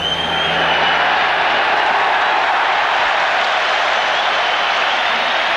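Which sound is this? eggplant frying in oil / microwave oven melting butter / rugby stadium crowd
rugby stadium crowd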